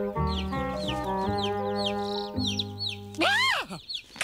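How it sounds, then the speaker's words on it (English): Cartoon chickens cluck repeatedly alongside a hen in a children's animated farm scene, busy rhythmic clucks layered over light background music, with a louder squawk near the end. "Little chicks, where are you?"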